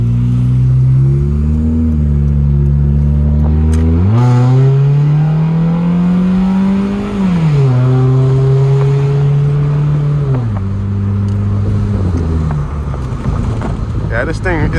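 Close, loud engine drone from a Nissan Skyline R34 on the move, the pitch climbing and dropping through gear changes with a steady road and tire rush beneath it.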